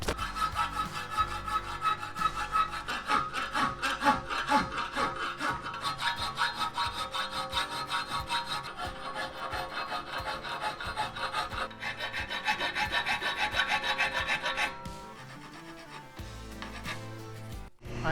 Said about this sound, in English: Now we'll get the file out.